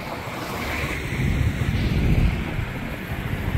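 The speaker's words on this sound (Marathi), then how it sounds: "बरोबर माझ्या डाव्या साईडला आहे सवसाड धबधबा" Savsad waterfall roars with a broad, rushing wash of falling water, swelling slightly in the middle, mixed with wind buffeting the microphone.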